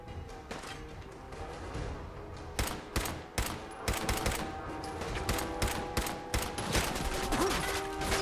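Sharp bursts of gunfire in the game Fallout 4 crack repeatedly in irregular clusters over a busy background, some shots louder and closer than others.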